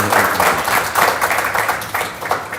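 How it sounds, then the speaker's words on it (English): Audience applause during a film discussion with director Priyadarshan, loud close clapping in uneven bursts that swell and dip across the clip, with no speech. "One round of applause."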